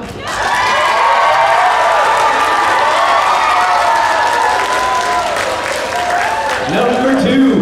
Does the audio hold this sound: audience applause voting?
yes